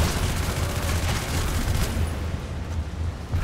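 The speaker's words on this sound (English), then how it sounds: "Explosions!" Dense, continuous blasts and crackling rumble from explosions in the video game Hatred, loud and unbroken throughout.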